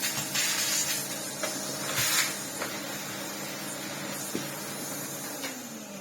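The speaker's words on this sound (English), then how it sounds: "so we'll give that a vacuum off" Kalado KCV-01 cordless vacuum cleaner running steadily while cleaning lint and hair off its floor head, a constant whirring hiss with a few brief sharper bursts and clicks as debris is sucked up.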